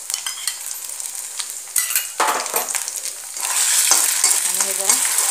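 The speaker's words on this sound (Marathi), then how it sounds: "हे सगळं आता एकत्र भाजून घ्यायचं।" Egg and noodles stir-frying together in hot oil for an Indian-style Chinese street food dish, a loud close sizzle with scraping stirring strokes of a utensil, growing hissier toward the end.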